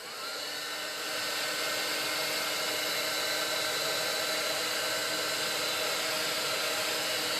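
A handheld dryer blows steadily and loudly while drying a stamped paper craft tag, starting up in the first second and then holding an even, continuous whoosh with no talking.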